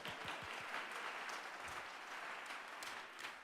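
An audience claps at a Young Life banquet, a continuous and fairly distant wash of applause that stays even throughout.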